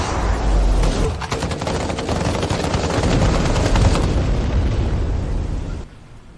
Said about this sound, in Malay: Tembakan musuh terlalu kuat.